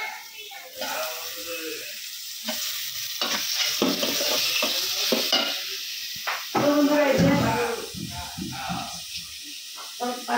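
Curry cooks on a home kitchen stove, stirred in bursts of scraping and sizzling that rise and fall, while a person talks over the cooking.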